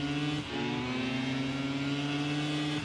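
MotoGP racing motorcycles at the Catalunya circuit blasting down the long front straight, a loud sustained high-pitched engine scream with steady harmonic tones that shift slightly as the bikes accelerate together, no talking.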